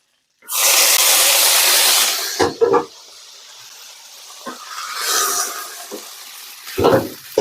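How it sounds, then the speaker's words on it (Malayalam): Water hits a hot pan of tempered mustard seeds and chillies for a bitter gourd stir-fry, setting off a loud, sharp sizzle that fades into a softer hiss with a few clinks and stirring sounds. "അപ്പൊ ഇതിലേക്ക് ലേശം വെള്ളം ഒഴിക്കണം ഞാൻ."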